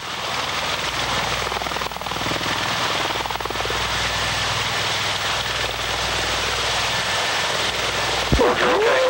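A V-22 Osprey tiltrotor on its first flight gives off a steady, loud, broadband rotor and engine roar that holds without a break, with a brief higher whine near the end.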